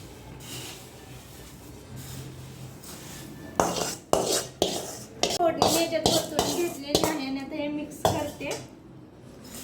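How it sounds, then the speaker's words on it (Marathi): Diwali chivda snack is mixed, with a burst of clattering, rattling scrapes that starts partway through and continues in quick irregular strokes, close and fairly loud after a quieter opening. "मिक्स करून घेते मी हे सर्व"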